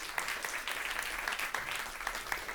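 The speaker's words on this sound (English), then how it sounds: "Give them a round of applause, please." An audience at a fireside chat event breaks into applause, a steady wash of clapping hands filling the room, moderately loud, with no talking over it.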